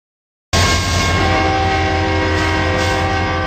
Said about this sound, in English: The horn of the train and these flashing lights are not enough to keep people from dying at this railroad crossing